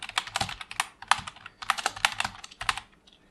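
A search query is typed on a computer keyboard, with rapid irregular key clicks running steadily for a few seconds, close and clear with no talk.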